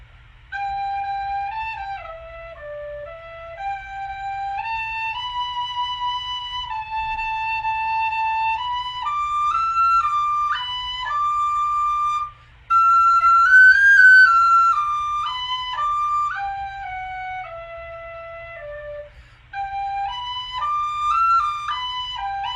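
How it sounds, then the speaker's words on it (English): A tin whistle plays the hymn Be Thou My Vision alone, a slow, clear melody of bright sustained notes stepping up and down with short pauses between phrases. "I'll wrap up by playing Be Thou My Vision on tin whistle again"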